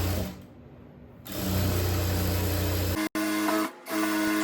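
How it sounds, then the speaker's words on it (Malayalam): A sewing machine stitches along the folded edge of a blouse, whirring steadily up close after a quieter start, then pausing briefly twice before running on. "ഇതിന്റെ അരികെ കൂടി അടിക്കും ഒരു സൈഡ് കേട്ടോ."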